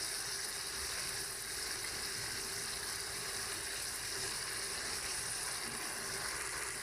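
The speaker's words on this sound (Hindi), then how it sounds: "चिकन हमारा फ्राई हो रहा है।" Chicken pieces frying in a pan with ginger garlic paste, giving a steady, even sizzle throughout, moderately loud and close, with no talking.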